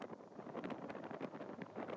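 Wind gusts buffet the microphone at an outdoor disc golf course in Emporia, Kansas, a steady rushing roar with no voices heard over two seconds.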